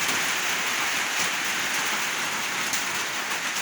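Steady rain falls in a continuous, even hiss, with no voices or other sounds.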